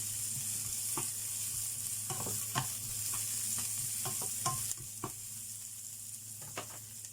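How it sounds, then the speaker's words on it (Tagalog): Onion stir-fries for pork adobo, a soft steady sizzle with occasional light spatula taps and scrapes, close and fairly quiet, and a slight drop in the hiss partway through. "Just stir fry."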